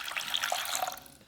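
Water poured into a pot over medium heat on a stove, a short bright splashing gush heard up close for about a second before trailing off.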